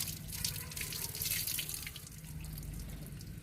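Warm water trickles and splashes steadily while bathing a dog in a quiet indoor space, with faint drips and a low background hum.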